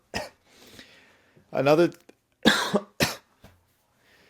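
A person coughs several times in short harsh bursts close to the microphone, with brief pauses between fits and a few words spoken in between.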